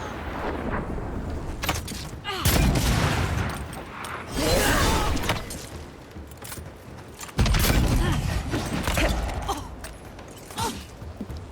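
Pressure pistol shots in the game Avowed crack out in several heavy bursts with booming blasts and mechanical clatter between them, close and loud against a busy battle backdrop.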